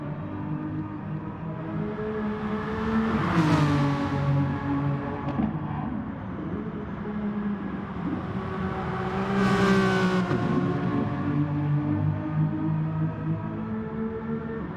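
Renault Megane Trophy race cars circulate on a track with a banked curve: a steady, close engine drone swells into two loud, whining pass-bys about six seconds apart, each rising and then falling away.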